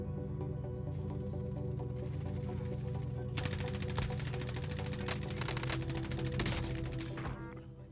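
Rapid automatic gunfire from the video game Warzone, a sustained loud stream of bursts with sharp cracks, dense and continuous throughout with a slight fade at the end.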